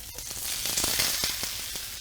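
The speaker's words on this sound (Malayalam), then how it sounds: "ഇനി ഇതിൻ്റെ അകത്തേക്ക് നമ്മൾ അരിഞ്ഞു വെച്ച സവാള ഇട്ട് കൊടുക്കുക" Chopped onion sizzling in olive oil in a pan for a beef and bean sprout stir fry, a close, continuous hiss with faint crackles and light pan knocks.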